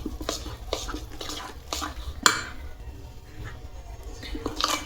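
Carrot and whole wheat flour cake batter being stirred in one direction in a bowl, producing a steady run of soft scraping and sloshing strokes with one sharper clink of the spoon against the side.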